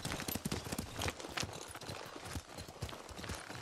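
Horses' hooves clip-clop steadily in a dense, uneven rhythm, close and fairly loud, with a busy mix of hoof strikes and no clear speech.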